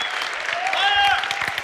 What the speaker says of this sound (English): An applause for Muk,